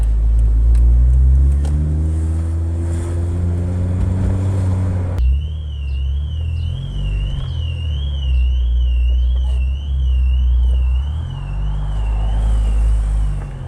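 A Mugen Honda Fit engine with a jerky CVT running loud and close, low droning tones shifting and wavering, then a thin high whine that wobbles up and down as the engine note rises and dips unevenly.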